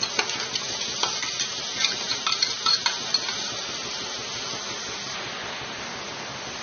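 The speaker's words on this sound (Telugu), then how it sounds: "ఇదంతా పచ్చివాసన పోయేంత వరకు ఫ్రై చేసుకోవాలి." Potato curry with sesame seeds, green chili and chili powder fries in a pan, a soft steady sizzle broken by sharp clicks and scrapes of a spoon stirring against the metal.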